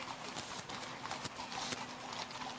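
Mounted police horses walking in a Mule Day parade, their hooves clip-clopping in a steady, uneven patter on pavement, fairly faint against crowd and street noise, with no talk.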